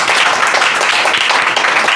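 Classroom applause: a dense, steady burst of many students clapping together, loud and close, filling the whole moment without pause.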